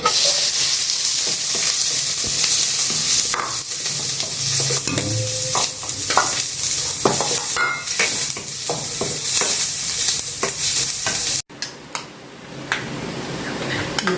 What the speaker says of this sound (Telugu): ఇప్పుడు కట్ చేసి పెట్టుకున్న ఆనియన్స్ పీసెస్ వేసుకోవాలి.